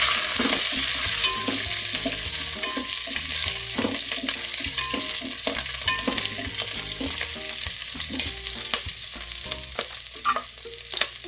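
Green chilies with cardamom and cumin fry in hot oil in a pan for biryani, a dense continuous sizzle broken by frequent scraping and clinking as the spoon stirs, close and loud with no voices.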